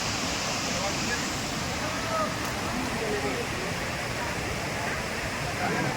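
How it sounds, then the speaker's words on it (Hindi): Lodh Falls waterfall in Latehar, Jharkhand, a steady, dense roar of falling water filling the whole clip, loud and unbroken with no clear voices. "यह है लौथ फॉल।"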